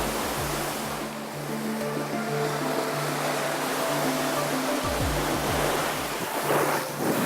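Waves wash onto a Caspian Sea beach in Kazakhstan, a steady broad hiss of surf with wind noise, with a low hum running underneath.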